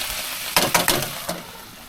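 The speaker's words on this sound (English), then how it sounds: "Stirring through the vegetables" Vegetables, pork and tofu being stirred in a hot sizzling pan at a campground, a few quick scraping strokes over a steady background hiss.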